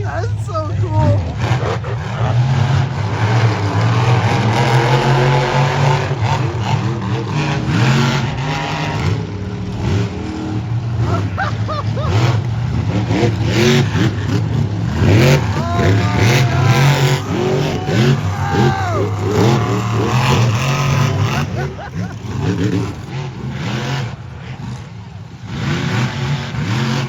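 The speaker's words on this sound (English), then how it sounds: "My boy turned Mullet into a monster truck." A monster truck fitted with a Mullet body revs its engine hard, the roar surging and falling again and again through a long stretch, loud and close, with people talking over it and a crowd noise behind.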